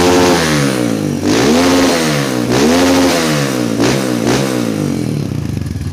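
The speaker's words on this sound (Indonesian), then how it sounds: "Hujan-hujan asiknya belayar-belayar motor lur ya." Small motorcycle engine, a GL Pro, revved repeatedly while riding in the rain, revs swelling and dropping in several loud, close surges with a rough, buzzing exhaust note.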